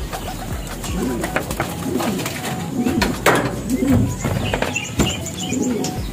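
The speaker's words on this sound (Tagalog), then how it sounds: "Ito yung ibon natin, oh." Pigeons coo in soft, repeated low burbles at close range, with scattered fluttering and clatter around them while someone speaks intermittently.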